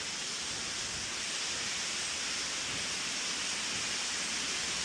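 Tall waterfall at Rock Garden Chandigarh, a steady, even roar of falling water that fills the whole span without change or pause, with no voices.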